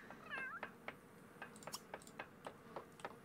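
Cat in The Sims 3 game giving a series of short, faint meows in a quick irregular rhythm, fairly quiet against a soft background.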